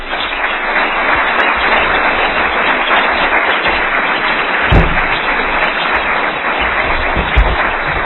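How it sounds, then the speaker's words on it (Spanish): An audience at a lecture on international criminal law applauds, a dense, loud wash of clapping that holds steady throughout. "con un fuerte aplauso."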